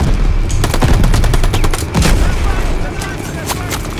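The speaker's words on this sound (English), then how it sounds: "I'm blind firing, I don't have any ammo left." Rapid bursts of blind gunfire in the Call of Duty Vanguard campaign, loud and continuous with sharp repeated cracks and a heavy low-end rumble, with some voice mixed in.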